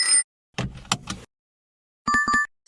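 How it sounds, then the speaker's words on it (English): A car seat belt button gives a few sharp, close plastic clicks in quick succession, followed after a pause by a brief run of electronic chiming tones. "Sound is car seat belt button."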